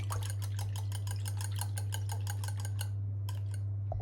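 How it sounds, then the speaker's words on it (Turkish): Rapid, steady whisk strokes against a bowl as whole eggs are beaten into a sauce for cauliflower gratin, evenly spaced ticking beats over a constant low hum, briefly pausing near the end. "Sosuma ekledikten sonra şöyle bir çırpıyorum."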